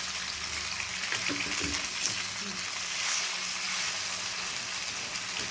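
Fish frying in oil in a pan, a close, steady hissing sizzle that runs unbroken throughout with a few soft crackles.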